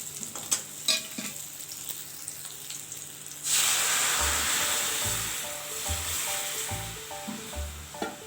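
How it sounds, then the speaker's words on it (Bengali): Lentils poured into a hot kadai of fried bitter gourd tempered with dried red chilli and cumin, setting off a sudden loud hissing sizzle after a few quiet clinks, then bubbling steadily with spoon scrapes. "উচ্ছেটা ভাজা ভাজা করে এখন ডালটা দিয়ে দেবো"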